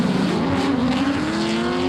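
Drift car in a D1NZ drift run roaring under throttle, a loud, steady, rasping engine note rising slightly in pitch with tire noise underneath, close and continuous.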